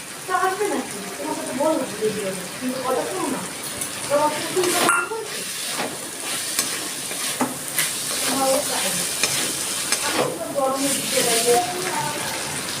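Boiled, finely chopped chicken tipped into a frying spice paste, with a steady sizzle and stirring scrapes running throughout, several louder clatters of the spoon against the pan, and a person talking over the cooking.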